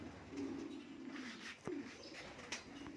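A red male pigeon coos softly and close by, giving a few low, throaty coos in a quiet setting.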